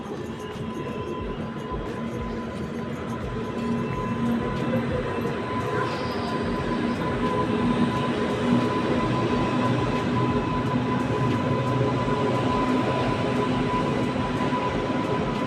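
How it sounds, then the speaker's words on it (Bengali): A train approaching a railway station platform, a steady rumbling roar with a sustained tonal hum that gradually swells louder as it draws nearer. "একটা ট্রেন আসছে দেখো"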